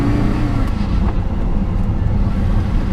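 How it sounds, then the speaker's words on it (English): Deep, steady engine drone from a 2006 Porsche Carrera GT with its V10, a loud low rumble heard from inside the car without talk. "And the sound that comes out of the engine, so you can hear"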